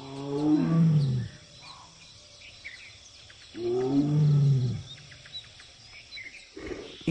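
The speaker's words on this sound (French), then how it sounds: "Il tente d'en attirer une avec ses rugissements." A male Bengal tiger roars twice to draw a female, each call a deep, powerful, drawn-out roar close by, with a quiet pause between them and faint bird chirps in the background.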